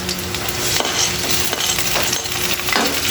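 Garlic and ginger sauté in a pan for dinuguan, a loud continuous sizzle with a few scraping stirs, close up and with no talking.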